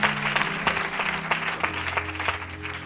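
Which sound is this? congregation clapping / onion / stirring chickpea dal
congregation clapping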